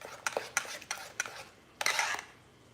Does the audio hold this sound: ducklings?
no